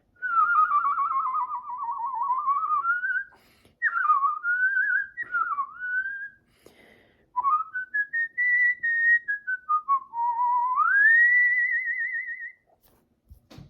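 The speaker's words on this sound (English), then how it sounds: "Whistling, built-in instrument." A person whistles a wavering melody alone, sliding up and down with vibrato-like warbles, clear and close, in several phrases separated by short pauses.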